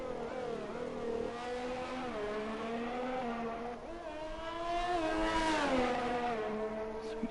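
Ferrari Formula 1 car engine in the racing game F1 2020 at the Netherlands circuit, a loud continuous high-pitched whine rising and falling through gear shifts as the car accelerates and brakes through corners.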